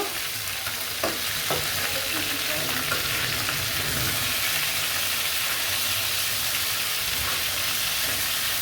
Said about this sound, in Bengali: আমি এখন উল্টিয়ে দেবো, হালকা ভাজা দেব